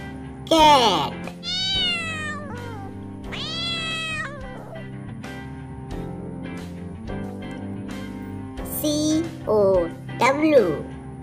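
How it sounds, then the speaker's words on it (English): A domestic cat meows several times, close and clear, with distinct rising and falling cries separated by short pauses over a steady low background. "cat."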